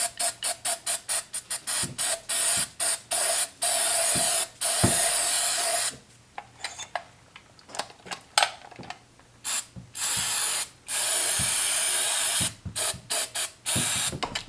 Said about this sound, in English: I'm just going to use some brake cleaner to clean inside there.